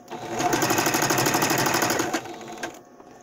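A sewing machine stitching across a seam on a cloth face mask, a fast steady mechanical whir with rapid needle clicks for about two seconds before it slows and stops.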